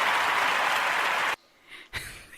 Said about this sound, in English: You did get some applause there.